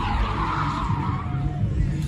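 Car tires skid and burn in a loud, continuous squeal with engine roar underneath, steady throughout.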